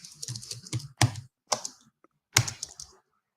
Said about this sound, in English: I'm having a hard time adjusting to my personal laptop keyboard